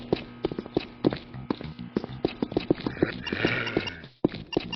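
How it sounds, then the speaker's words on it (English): Enemy footsteps in the Doom video game play as a rapid run of sharp, evenly spaced thuds and taps, loud and close, with a burst of hissy noise near the end and a brief gap of silence. "it's got footstep sounds to go with them"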